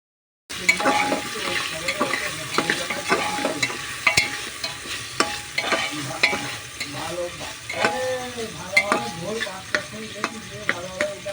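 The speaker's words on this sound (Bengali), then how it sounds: "হালকা পরিমাণ মশলা ধোয়ার জলটা দিয়ে বেশ কিছুক্ষণ ধরে কষিয়ে নিচ্ছি।" Spices being stir-fried in a pan with a little spice-rinsing water, a ladle scraping and clinking against the pan in an uneven rhythm over a soft, steady sizzle, close and moderately loud.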